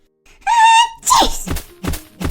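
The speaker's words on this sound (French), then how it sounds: "l'écureuil éternua tellement fort qu'il fit tomber 3 pommes de pin" A squirrel lets out one loud, abrupt sneeze, a rising whistle-like intake followed by a sharp burst, with a few softer breathy sounds trailing after.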